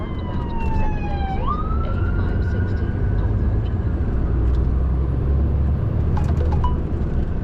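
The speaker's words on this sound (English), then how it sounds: "I've got an ambulance trying to get past, so I'm just going to slow down a little bit." A wailing ambulance siren sweeps up and down as it passes, loud over steady road and engine rumble.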